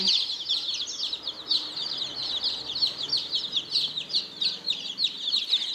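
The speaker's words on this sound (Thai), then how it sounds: "วันวันก็จะอยู่กับเสียงเจี๊ยบเจี๊ยบเจี๊ยบเจี๊ยบทั้งวันค่ะ" Constant high-pitched peeping and chirping from a group of Burmese gamecock chicks, continuous and close, with no talking.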